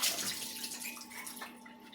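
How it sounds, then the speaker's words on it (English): Liquid from a can of black olives pours out steadily in a thin, continuous trickle with a faint hollow ring, close and fairly quiet, with no talking over it. "I'm going to drain the water."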